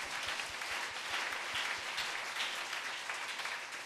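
Congregation applauding together during an evening church worship service, a steady, dense wash of clapping that holds loud and unbroken throughout, with no talk over it.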